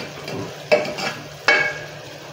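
Fresh curry leaves hit hot oil with yellow turmeric and salt for a curry, two sharp crackling sizzle bursts over a soft steady frying hiss, close up and alone.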